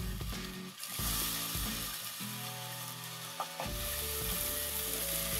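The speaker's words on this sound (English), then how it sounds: "cut up your banana into pieces and pop them into the pan" Banana pieces fry in a pan for pancakes, giving a continuous close sizzle with a soft tonal hum running underneath and one small clink partway through.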